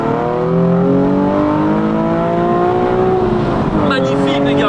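A Nissan 370Z Nismo with a full straight-pipe exhaust revs up in a long, rising, loud engine howl heard from inside the car, then drops off near the end, with occasional voices beneath it.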